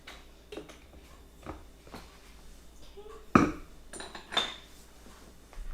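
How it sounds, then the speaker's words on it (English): Pizza dough ingredients with olive oil get stirred in a bowl: a few soft scraping and clinking strokes of a utensil against the dish, with one sharper knock midway, fairly quiet and alone. "And we're going to give all of this a stir."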